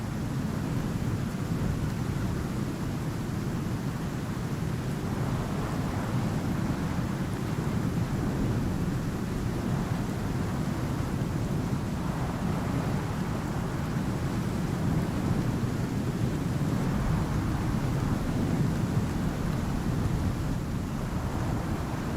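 A thunderstorm in the survival game Icarus rumbles continuously with heavy, low wind-driven noise, a steady dense roar without distinct claps.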